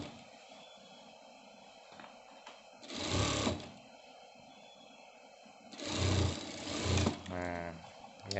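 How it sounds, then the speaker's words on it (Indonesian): Sewing machine stitching a shirt seam in bursts: a short run, a pause, then two longer runs and a quick rattling stop, close and fairly loud over a quiet room hum. "Dibalik seperti ini, lalu dijahit ulang ya."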